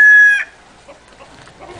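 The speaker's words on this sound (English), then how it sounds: "Look at the chickens going across." A loud chicken call rings out at the start, then fades into soft, scattered clucks from a few hens nearby.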